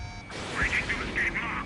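Missile lock-on warning beeps in the Ace Combat 7 flight combat game, a rapid series of short repeating electronic tones over engine rumble.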